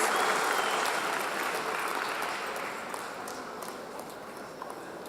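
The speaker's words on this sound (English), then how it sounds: "A big round of applause for our champions." Audience applause for the winners of a school quiz competition in Muscat, a dense, steady wash of clapping from a large hall crowd that slowly eases off over several seconds, without speech.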